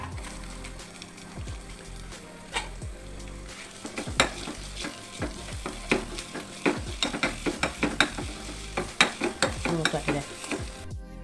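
Small shallots drop into hot oil in a pan for chicken curry, sizzling steadily while sharp clinks and scrapes of stirring come in bursts, growing busier and louder toward the end, with no talking.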